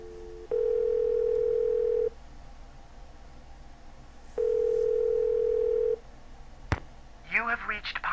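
Telephone dialing in a Nancy Drew video game: two long, steady electronic tones sound alone in quiet, then a sharp click and a burst of chirpy ringing or connection noise at the end.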